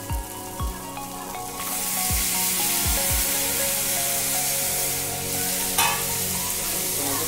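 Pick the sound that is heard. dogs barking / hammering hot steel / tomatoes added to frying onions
tomatoes added to frying onions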